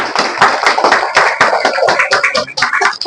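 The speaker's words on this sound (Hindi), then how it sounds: "तालियों से स्वागत किया जाए।" Audience applause welcoming the chairman at a school Independence Day ceremony in Lakhimpur Kheri, a dense, loud crowd of hands clapping continuously for about three seconds.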